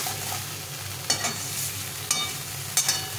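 Green curry being stir-fried in a pan, a steady close sizzle with scraping spatula strokes landing roughly once a second, no voices.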